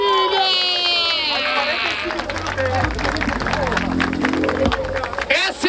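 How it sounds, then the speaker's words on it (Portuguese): A crowd at a Brazilian freestyle rap battle in Barueri, São Paulo, applauds and cheers while a voice talks loudly over the noise. "Palmas pra essa batalha"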